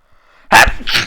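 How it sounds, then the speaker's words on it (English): A single loud sneeze, close to the listener, with a sharp burst followed by a brief trailing exhale. "I had that sneeze."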